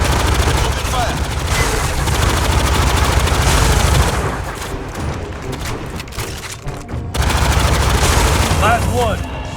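Sustained automatic gunfire in Aliens Fireteam Elite 2, dense rapid bursts that are loud and close, easing briefly in the middle before resuming hard, with faint voices under the shooting.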